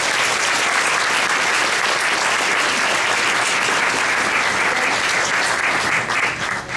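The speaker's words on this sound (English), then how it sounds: "can we have a rousing round of applause?" An audience breaks into sustained, dense applause for a speaker at a Race Talks event on implicit bias, steady and full throughout before tapering slightly at the end, with no talking over it.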